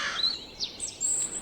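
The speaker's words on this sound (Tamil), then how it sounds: "அந்த காகம் மட்டும் வழக்கம் போல் கத்த ஆரம்பித்தது, கா கா கா" Cartoon crow calls from a children's Panchatantra fable, a few short bright chirpy cries in quick succession, fairly clear and alone with no talk.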